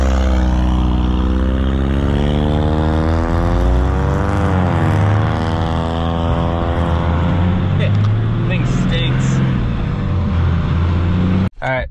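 A loud, close hotshot truck engine runs with a deep harmonic drone, its pitch sliding up and down as it revs, then cuts off abruptly at the end.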